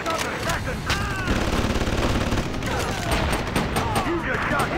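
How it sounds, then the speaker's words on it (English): Dense gunfire in Grand Theft Auto V: rapid overlapping shots and bursts fill the whole stretch at a steady loud level, with a voice talking over the shooting. "You just shot him in the face."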